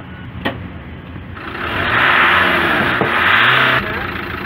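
A car engine pulls away and accelerates, a low rumbling drive that swells into a louder rushing roar before easing slightly, heard from inside the vehicle without talking.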